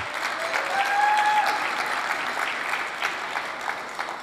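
A keynote audience bursts into applause, a dense wash of many hands clapping that swells and then tapers over a few seconds, heard from within the room.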